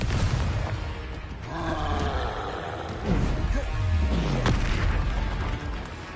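Confringo spell blasts in the Hogwarts Legacy game, a rolling series of booming fiery explosions with roaring low rumble, loud and sustained over game audio.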